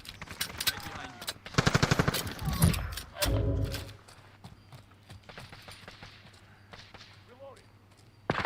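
Machine gun fire rattles in Call of Duty Modern Warfare as rapid bursts of shots that peak in the middle, mixed with quieter in-game mechanical clatter at a modest overall level.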